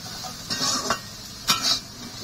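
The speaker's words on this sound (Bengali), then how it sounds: "আলুটা কিন্তু ভাজা হয়ে গেছে, একটু লবণ আর একটু হলুদ দিয়ে ভেজে নিয়েছি।" Potatoes frying in a pan with salt and turmeric, a soft continuous sizzle broken by two short scraping stirs, close and fairly quiet, no voices.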